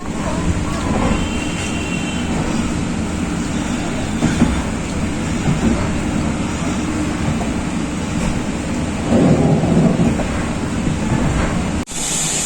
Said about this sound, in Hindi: अपनी जो ट्रेन है आसफपुर पर अराइव कर चुकी है